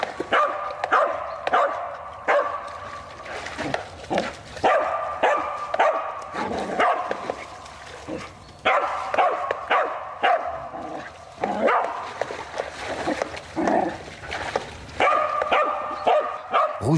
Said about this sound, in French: Il est rattrapé par Havane, un chien bâtard issu de fox et de yak terrier